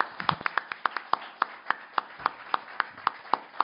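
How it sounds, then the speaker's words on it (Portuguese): Slow, scattered claps from a small audience at a literary talk honouring Maria Antonieta Cunha, about a dozen sharp, fairly evenly spaced hand strikes ringing out alone at moderate distance. "uma salva de palmas para a nossa querida Antônia"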